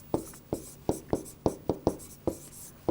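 Marker or chalk tapping and scratching across a board while equations are worked out, a series of about eight short, evenly spaced strokes, close and fairly quiet, no talking.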